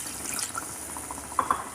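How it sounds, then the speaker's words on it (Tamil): Tamarind water is poured into a pan for lemon leaf kulambu, giving a soft, brief splashing trickle with a couple of small drips at the end. "இப்போ வந்து நம்ம கரைச்சி வச்சுருக்கிற புளித்தண்ணியை விட்டுடலாம்"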